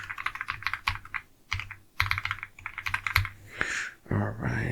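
Rapid clicking keystrokes on a computer keyboard come in close bursts with short pauses, and a few louder taps and a rustle near the end.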